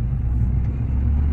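A Ford Courier Titanium Plus engine held at low revs, a steady close-up low-pitched rumble heard from inside the car with no talking.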